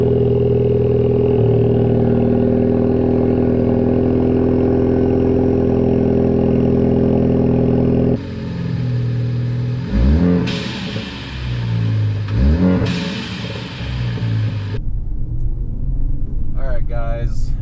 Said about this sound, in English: so you can know what to expect with the sounds of this blow-off valve